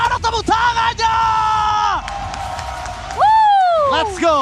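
Live crowd at the Mobile Legends M5 Indonesian grand final, ONIC vs AP Bren, yells and whoops loudly in sustained bursts, with rising shouted cheers near the end and a caster's voice running over the noise.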